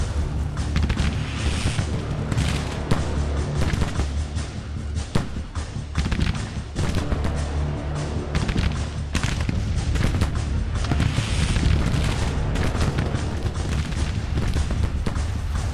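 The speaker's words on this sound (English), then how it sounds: "Got another firefight here" Battle in the strategy game Grand Tactician: rapid rifle volleys and heavy artillery booms pound almost continuously, a dense, loud barrage of cracks and deep thuds layered over a rumbling low-end background.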